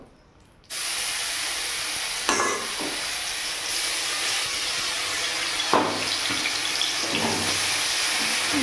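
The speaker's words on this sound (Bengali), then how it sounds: "এবার এখানে আমি দিয়ে দেবো রসুন আর কাঁচা লঙ্কা বাটাটা" Garlic and green chili paste dropped into hot oil in a wok, a sudden loud hiss that settles into a steady, dense sizzle with a few louder bursts, close up.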